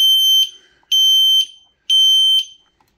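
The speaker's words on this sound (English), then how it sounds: "I think it's going to go right back into alarm." A piercing electronic alarm from a Fire-Lite H365HT fixed heat detector falsely tripping beeps three times in a steady rhythm, each loud tone lasting about half a second with short gaps between.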